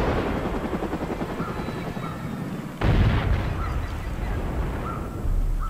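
A helicopter circles overhead in Far Cry 5, its low rotor rumble droning steadily throughout, with a sharper loud burst partway through and distant bird-like calls scattered on top.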